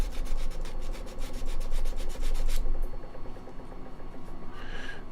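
Sandpaper rubbing steadily over a 3D-printed X-23 figure, a continuous scratchy friction close up that changes texture partway through, with no talking.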